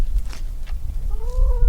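Chickens cluck in short, close bursts over a low background hum, ending with a drawn-out, rising call.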